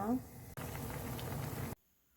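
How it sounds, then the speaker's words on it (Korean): Fish cake soup broth (eomuk-tang) with fried tofu bubbles at a rolling boil in a pot, giving a steady, close bubbling hiss for about a second before cutting off to near silence. "이렇게 해서 팔팔팔팔 끓여주세요."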